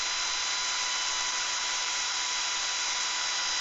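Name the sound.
drill boring a hole in a 3D printed lure blank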